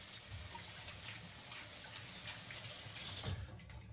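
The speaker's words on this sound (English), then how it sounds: "And then wash the rest out of your hands." A bathroom tap runs steadily into a sink as hands are rinsed after hair styling, a loud, close, continuous hiss of water that cuts off abruptly near the end.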